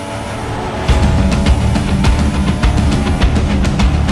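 An F1 car in F1 2016 at Abu Dhabi accelerating hard, a loud high-revving engine kicking in sharply after a quieter start, with rapid gear-shift pulses as it climbs to speed.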